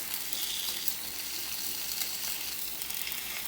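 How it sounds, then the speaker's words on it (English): Fish fillet searing in a hot skillet on medium heat gives a steady, dense, hissing sizzle that holds evenly throughout with no talking. "You'll feel that great sizzle that we love creating, that burn, that sear."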